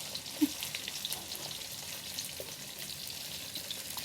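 Sun-dried beef frying in hot oil gives a steady, soft sizzle and crackle, fairly quiet, with one small pop near the start and no voices.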